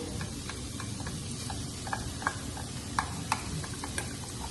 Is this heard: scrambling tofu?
yes